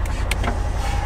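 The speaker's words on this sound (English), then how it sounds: "Power windows." The power window on a Polaris Ranger NorthStar whirs briefly as its electric motor moves the glass, a short steady mechanical hum heard up close.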